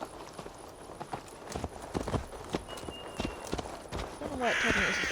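Horse hooves clip-clop in a steady rhythm in Assassin's Creed Valhalla, fairly close and mixed with other game sounds, with a brighter burst of noise near the end.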